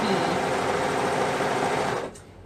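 A sewing machine stitches a shirt with a double needle and stretch thread, a fast steady mechanical whir for about two seconds that then stops.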